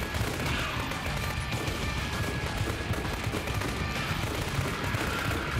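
Video-game gunfire rattles in a dense, continuous barrage of loud shots, resembling sustained automatic fire throughout, with no talk.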